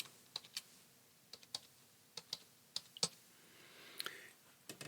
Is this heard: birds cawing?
no